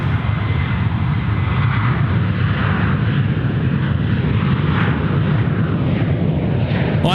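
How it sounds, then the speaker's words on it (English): Aircraft engines spool up at Sydney Airport in a loud, continuous broadband roar that holds steady and close throughout, with no voices over it. "I heard this aircraft spooling up"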